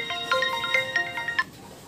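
A mobile phone ringtone plays a bright, bouncing melodic tune of short plucked notes, fairly loud and close, then stops near the end of the clip; the setting is a car dealership visit about a Mitsubishi Xpander.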